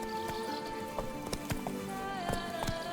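Roach the horse trotting in The Witcher 3, hooves clip-clopping in a steady, fairly quick rhythm, close by, under game ambience and a continuous music tone.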